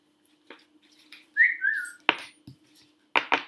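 A person whistles a short, sliding two-note wolf-whistle-style phrase at moderate volume, surrounded by scattered clicks, thumps and a faint steady hum in a quiet room.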